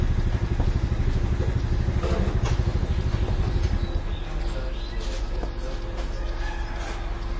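A motorcycle engine rumbles loudly nearby, its low, steady throb holding for several seconds and then fading as it moves away, over a constant background hum.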